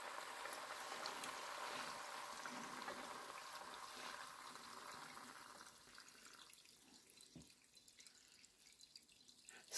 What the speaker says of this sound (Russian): Так, и теперь я зараз заливаю это все водой.